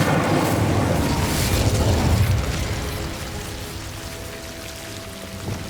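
Incendio fire spell cast in Hogwarts Legacy, a loud crackling burst of flame that roars for about two seconds, then fades into a hissing, rain-like crackle and a low hum.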